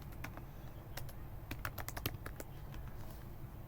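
Fingers tap out a quick, uneven run of clicks on a computer keyboard while coding a Next.js Firebase app. The keystrokes are close and fairly soft, with no one speaking.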